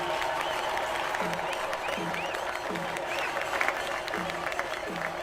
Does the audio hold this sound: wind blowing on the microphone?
no